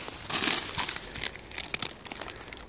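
A plastic bag found in a forest is crumpled up close, giving loud, irregular crinkling bursts for nearly three seconds with no talk.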